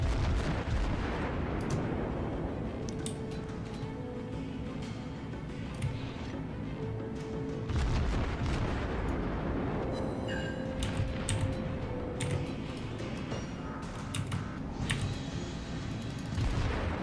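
Naval cannon shells fire from the cruiser Königsberg in World of Warships, with repeated deep booming salvos rolling over a constant low battle rumble, loud and close, and no talk.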